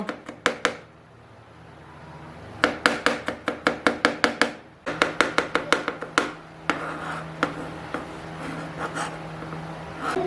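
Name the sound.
finely chopping garlic with a knife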